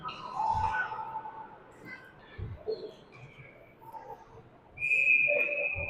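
A referee's whistle at a youth hockey game gives a short shrill blast near the end, after scattered higher whistle-like tones amid arena noise and low thuds, with no clear talking.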